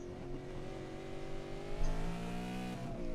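V8 race cars at Long Beach run hard with engines roaring in sustained layered harmonics, rear tyres sliding and scrubbing through a corner; a steady loud drone with a brief surge near the middle and no talk.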